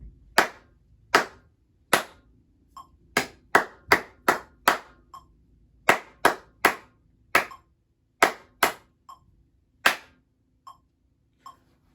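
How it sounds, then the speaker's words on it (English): A class claps a rhythm together in a music lesson, sharp unison claps in a clear pattern of groups and rests, close and crisp against a quiet room, with no counting. "Now let's just clap that."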